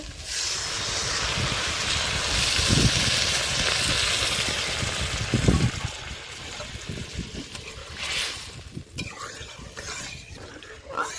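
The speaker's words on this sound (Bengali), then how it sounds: "এখন আমি পরিমাণ মতো জল দিয়ে দিচ্ছি" Water poured into frying potato masala in a pan, a loud hissing sizzle with bubbling and stirring scrapes that settles into softer simmering crackle.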